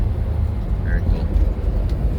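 A 1965 Chevrolet Malibu SS with an L79 engine and four-speed manual gearbox downshifts while driving, heard as a steady, loud, low engine rumble with road noise.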